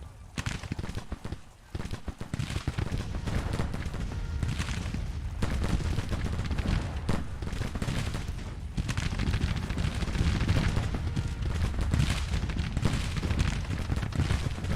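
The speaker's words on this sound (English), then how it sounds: "Are they firing the guns?" Civil War guns fire in the strategy game Grand Tactician: dense, overlapping gunfire and distant artillery thuds rumble continuously at moderate loudness, with scattered sharper cracks and no talk.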